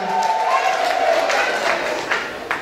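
Audience at a gathering applauding and cheering for the sisters, a steady wash of clapping and crowd noise throughout, with a voice speaking over it.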